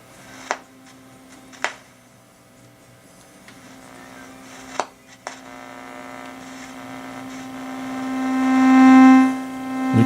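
A steady electronic tone hums from a speaker connected to a signal generator during a grandfather clock restoration, with sharp clicks early on, then the tone swelling louder and fading near the end.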